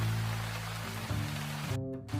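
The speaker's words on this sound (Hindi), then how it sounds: "माँ, बारिश कब रुकेगी?" Steady rain falls in a village home scene of an animated Hindi story, a continuous broadband hiss with soft sustained musical tones layered underneath and no talking.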